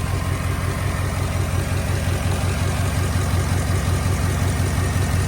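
A 5.3-litre V8 engine in a 2008 Chevy Avalanche idles steadily with a deep, even rumble and low throbbing pulse at first start after timing chain work, close and continuous with no other sounds.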